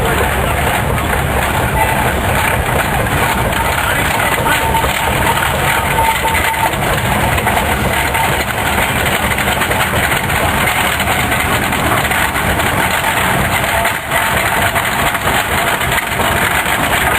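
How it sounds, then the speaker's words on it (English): An 8 horsepower King steam traction engine built in 1920 running steadily nearby in a threshing show parade in Edgerton, Wisconsin, a loud continuous chugging rumble with mechanical clatter that holds even throughout. "This is an 8 horsepower King steam engine"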